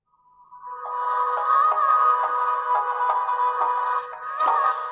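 Phone ringtone playing through a handset's side speaker at full volume, a bright melodic electronic tune with repeating tones that rises in from silence and holds steady for several seconds, alone without talk.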